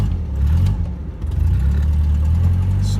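An MG car's engine rumbles low and close, dipping briefly before picking up again and pulling steadily as the clutch grabs, with a faint higher whine late on.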